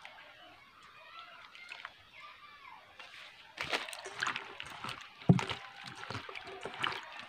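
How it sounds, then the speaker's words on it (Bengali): Cut raw green mangoes being washed in water by hand: soft sloshing and splashing, quiet at first, then louder irregular splashes in the second half, close by. "এবার আমি আমগুলোকে ভালো করে ধুয়ে নেব"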